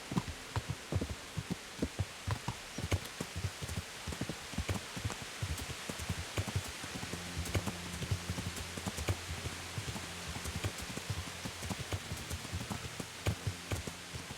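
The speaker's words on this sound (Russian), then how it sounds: "Заметьте, дождь уже целый день льет." Steady rain falls in the video game Kingdom Come: Deliverance with a dense, crackling patter of drops, over a low throbbing hum and a few sharper taps.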